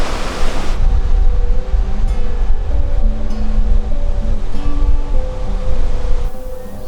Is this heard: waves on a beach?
yes